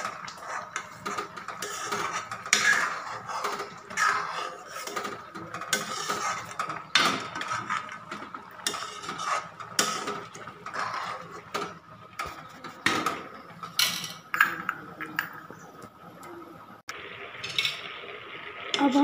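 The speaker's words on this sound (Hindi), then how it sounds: "बीच बीच में हम हलवे को इस तरह से हिलाते रहेंगे।" A spoon scraping and clinking against a pan while bottle gourd halwa is stirred, repeated irregular metallic scrapes and taps in a home kitchen, with someone speaking between the strokes.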